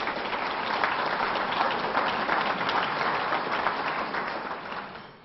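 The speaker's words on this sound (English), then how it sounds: "Let's clap for them." Sustained audience applause at a small-town chamber of commerce awards ceremony, a dense steady wash of many hands clapping that holds for several seconds and then fades toward the end.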